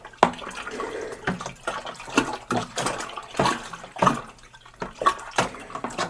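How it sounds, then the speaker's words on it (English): A strawberry rhubarb wine mixture is stirred vigorously, giving rhythmic sloshing and swishing liquid in repeated strokes about every half second, close and fairly soft, with no talking. "We're going to give our mixture one more good vigorous stir."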